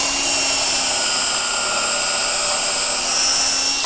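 A power drill whines steadily at high speed into wood clamped near the edge for a planter box, one continuous loud run with a faint hum beneath and no talk.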